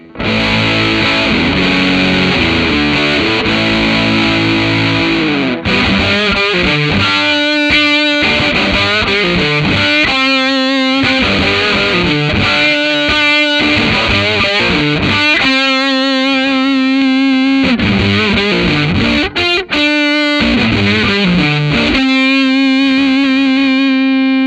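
Gibson ES335-style electric guitar played through a Thorpy FX Veteran silicon fuzz pedal, giving thick, saturated distorted chords and riffs that ring out loudly and continuously with sustained, buzzing tone.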